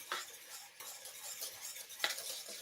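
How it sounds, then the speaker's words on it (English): A whisk scraping and clinking through thick, creamy white cheese sauce for lasagne in a pot, a soft irregular metallic stirring with a few sharper taps, close and quiet with no talk. "So white cheese sauce, nice and creamy, nice and thick, nice and smooth. I'm gonna whisk that again."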